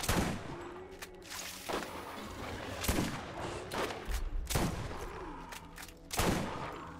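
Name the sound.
sniper rifle gunfire in the video game Borderlands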